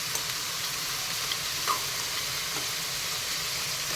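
Ginger garlic paste with black pepper frying in a pan for mushroom roast, a soft continuous sizzle with occasional light clicks of stirring, fairly quiet and without talk.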